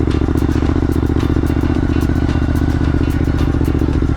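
An ATV engine drones loudly and steadily along a trail, with constant rumbling, rattling and clatter from the ride, close to the microphone and continuous throughout.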